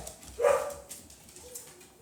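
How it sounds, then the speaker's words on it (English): A single short dog bark or yip, faint and a little distant, followed by quiet room noise. "That was a dog."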